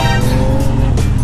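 A car with turbos passes close on a street in Mumbai, its engine roaring loudly with a brief tire squeal as it goes by.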